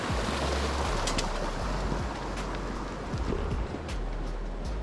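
A constant, close roar of rushing water comes from a mountain stream flowing through the Haramosh valley, with faint gusts of wind and no talking.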